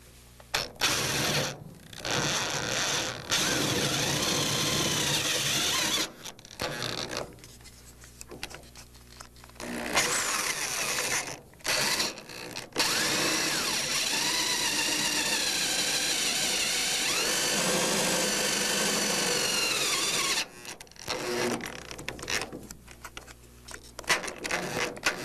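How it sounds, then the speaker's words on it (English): A 3/8 inch electric drill bores through an aircraft mount in several long, loud whining runs with short pauses between bursts, close by and with no talking. "We're using a 3/8 inch electric drill"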